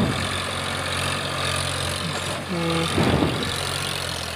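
An Eicher 551 tractor hitched to a loaded trolley idles in a village, a steady low diesel rumble running throughout with brief voices and a short tonal sound near the middle.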